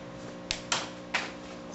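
Small cutters snip through a piece of material for a miniature cappuccino machine model, giving a few sharp, close clicks spaced across a quiet background.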